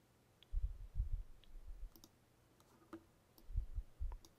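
Computer mouse clicking on a shape while editing in Keynote, a handful of quiet, sharp clicks in small irregular clusters, close and dry against near silence, with no talk.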